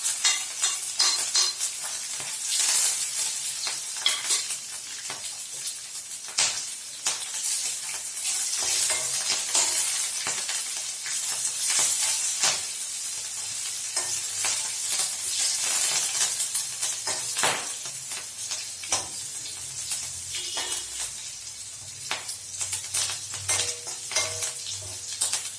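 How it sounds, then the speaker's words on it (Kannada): Green chillies and curry leaves fry in a pan with a constant close sizzle, broken by repeated scrapes and clinks of a stirring spoon against the metal, with no voices. "ಹಸಿಮೆಣಸಿನಕಾಯಿ ಫ್ರೈ ಆಗಿದೆ."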